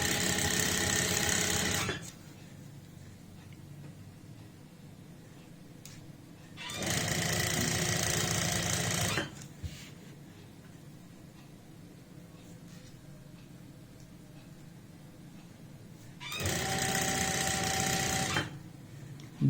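A sewing machine stitches piping onto an apple-cut kurti in three loud bursts of rapid whirring, separated by quieter pauses.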